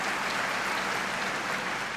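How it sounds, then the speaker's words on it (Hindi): Audience clapping at a Hindi comic poetry gathering, a steady, dense wash of applause sustained without a break and with no voices on top. "तालियां जोरदार वाली बजाओ एक बार जरा"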